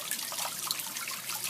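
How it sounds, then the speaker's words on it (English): Water trickles steadily over a rock-and-mortar waterfall feeding an upper-lower koi pond of roughly 800 gallons, a close, continuous splashing babble with no voices. "800-gallon, roughly 800-gallon upper-lower pond with a waterfall"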